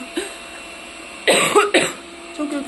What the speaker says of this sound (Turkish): Çok öksürüyorum ben